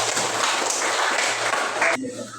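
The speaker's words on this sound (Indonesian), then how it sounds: "Ya, tepuk tangan." A school class of tenth-graders claps hands together in a steady, dense burst lasting about two seconds, then cuts off sharply into near quiet, with a faint low hum running underneath.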